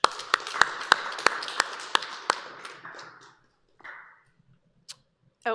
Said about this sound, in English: just a quick thank you round of applause for Danielle and Ray.